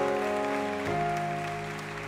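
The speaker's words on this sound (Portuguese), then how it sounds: "Pode aplaudir o Senhor Jesus." Congregation applause during an evangelical church service, a broad steady wash of clapping mixed with sustained music and organ-like tones throughout.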